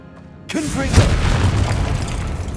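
A Confringo blasting spell explodes in the Hogwarts Legacy video game: a single heavy boom lands right after a shouted incantation, with a bright burst and a rumbling tail over continuing game sound.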